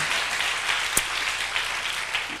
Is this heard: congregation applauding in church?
yes